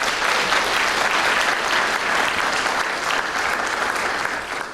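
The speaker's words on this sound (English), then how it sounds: "you can give him a round of applause" A crowd of audience members applauds for a former NFL player living with MS, the clapping steady and dense throughout, loud and close, fading slightly at the very end, with no talk over it.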